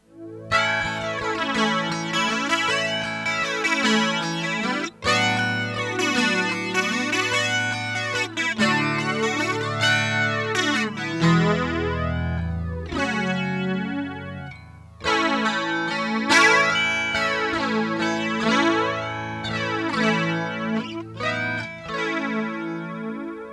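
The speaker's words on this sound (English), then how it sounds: "let's just move on to the straight flanger" Distorted electric guitar chords run through a flanger, the tone sweeping up and down in repeated whooshing waves, loud and continuous with brief breaks.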